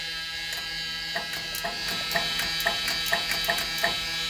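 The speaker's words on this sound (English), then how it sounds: "So I hear the starter, the Bendix or whatever it's called. I hear that engaging, but it's not spinning over." The starter on a 1987 Dodge D100 pickup engages, but the engine does not turn over: a steady electrical whine and hum with a series of sharp repeated clicks and clunks, close and fairly quiet, with no cranking rhythm.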